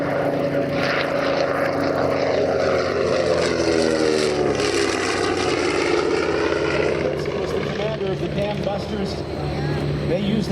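A WWII Avro Lancaster bomber of the kind flown by RAF 617 Squadron passes overhead at an airshow, its piston propeller engines roaring loud and close with a sweeping pitch drop as it goes by, while people talk over the noise.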